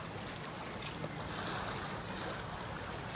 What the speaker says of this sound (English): We got about 15 knots of wind behind us. We're sailing around Icebergs.